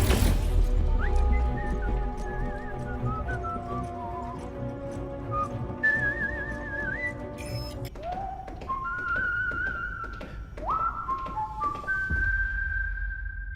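An actor's character whistles the Star Trek theme in a scene from Star Trek: Starfleet Academy, a wavering melodic whistle with sliding notes carried over a low rumbling score and scattered effects.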